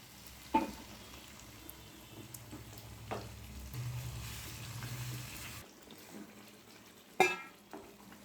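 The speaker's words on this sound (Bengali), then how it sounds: "চিকেনের মধ্যে অল্প গরম জল দিয়ে দেবো।" Hot water poured into chicken frying in a pan for butter chicken, a steady sizzle and bubbling swelling for a few seconds and then cutting off, with sharp utensil clinks at the start and near the end.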